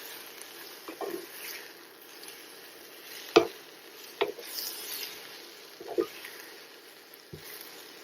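Shrimp with scallion and chili pepper are stirred in a hot pan, giving a faint background sizzle broken by a handful of scattered, sharp utensil scrapes and taps at irregular intervals.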